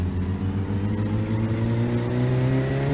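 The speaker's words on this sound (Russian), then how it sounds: "Смотри, колесо трет." Car in My Summer Car, driving steadily with a wheel rubbing, a constant mid-pitched engine drone with rising harmonics and a continuous grinding undertone, loud and close throughout, no talk.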